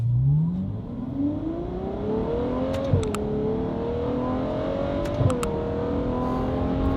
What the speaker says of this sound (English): we're gonna warm up the car and get it up to operating temperature, and you guys will hear how nuts this thing sounds